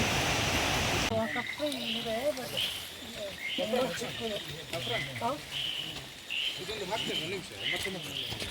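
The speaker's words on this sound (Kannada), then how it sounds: "ಇಲ್ಲಿ ನಾಲ್ಕೈದು ಪ್ರಭೇದದ ಕಪ್ಪೆಗಳು ಕೂಗ್ತಾ ಇದೆ" A dense night chorus of several frog species on Mannapapu Mala near Karkala, with overlapping croaks and trills layered over a steady high insect-like hiss, close and continuous throughout.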